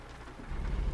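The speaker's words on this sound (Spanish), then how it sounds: "Está lloviendo, así que déjenme poner los limpiadores." Steady rain in a horror video game, a dense hiss of falling drops that swells louder halfway through the second, with a low rumbling undertone and no voices.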